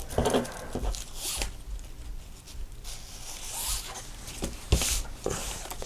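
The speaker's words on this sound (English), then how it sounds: "I'm going to cut 2 pieces of this ribbon." Ribbon cut for handmade cards, with close, quiet snipping and rustling of scissors and ribbon in short bursts across a few seconds.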